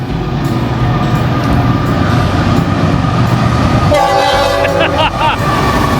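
A loud passing train rumbles close by, then its horn blasts in several short honks over the roar of the wheels.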